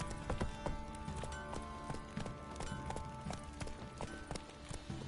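Galloping horse hooves in the video game The Witcher 3, rapid continuous clip-clop beats under dense game ambience, fairly quiet and steady across the short stretch.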